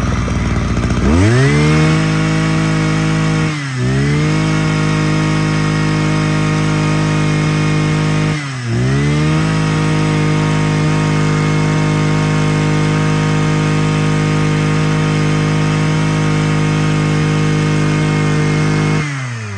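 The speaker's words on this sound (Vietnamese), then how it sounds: "Tiếng máy của những em này cực kỳ êm luôn" A 26cc Mitsubishi TU26 brush cutter engine runs loud and close with a steady buzzing drone, briefly dipping twice before holding a constant pitch.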